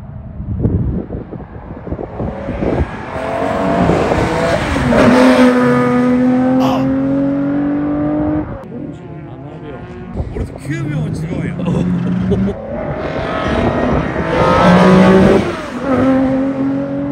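A Nissan Laurel is driven on the Honjo race circuit, its engine loud and near as it revs and accelerates through rising gears, easing off in the middle and pulling hard again, with people talking over it.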